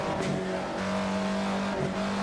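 An Alfa Romeo 33 Stradale engine, a road car that revs to 9,000 RPM, is revved in the Assetto Corsa racing game, giving a loud, close, sustained high-pitched howl that holds steady with slight pitch shifts.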